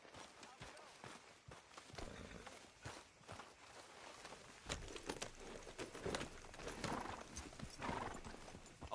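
Rhythmic clip-clop of horse hooves walking in the video game Red Dead Redemption 2, steady and close, with an occasional whinny and faint ambient noise behind.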